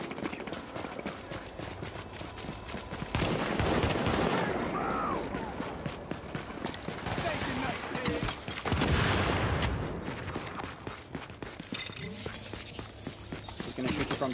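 Gunfire rattles in a video game firefight as dense, rapid bursts and volleys run almost without a break, loud and close, with brief swells of heavier shooting.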